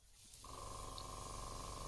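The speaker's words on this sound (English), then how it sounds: "here I'm using the Createx pearlized gold again and spraying the entire lure with it" An airbrush sprays Createx pearlized gold paint over a fishing lure in a soft, steady hiss, with a constant tonal hum from the compressor running beneath it, close and alone.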